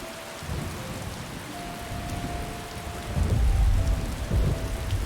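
Heavy rain pours steadily in Skyrim while low thunder rumbles swell in the second half, with a faint musical tone drifting above the storm.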